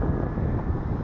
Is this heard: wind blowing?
yes